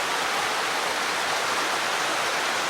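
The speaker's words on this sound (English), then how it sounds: "there are definitely some more smaller waterfalls up here" Small waterfalls along Mill Creek on the Mason-Dixon Trail produce a close, dense, unbroken rush of falling water.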